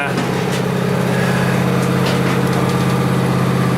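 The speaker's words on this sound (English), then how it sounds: "I'll let that tractor keep warming up" A tractor engine idles steadily while warming up, with a constant low rumble and droning hum running throughout, close and fairly loud.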